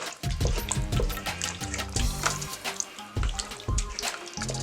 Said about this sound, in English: We're going to stir this up a little bit.